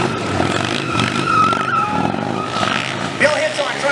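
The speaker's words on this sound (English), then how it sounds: "Small circle wheelie, feet on the pegs. Inside, outside, trying to drag that peg." A stunt motorcycle spins a small circle wheelie at an indoor motorcycle show, its rear tire skidding and squealing over a droning engine, loud and continuous, with a crowd and an announcer's voice mixed underneath.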